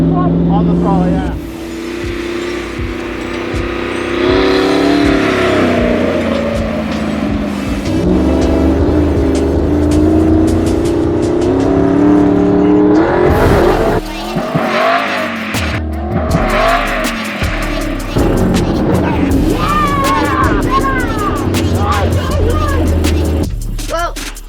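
A jumping trophy truck's engine revs hard on the throttle, loud and close with rising and falling pitch sweeps, tire noise and shouting voices mixed in throughout.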